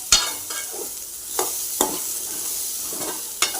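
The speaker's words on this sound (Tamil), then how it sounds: "நல்லா கலரி விட்டுட்டு" Green peas sundal being stirred in a pan gives a few scattered scraping clinks over a soft, steady sizzle, up close with no voices.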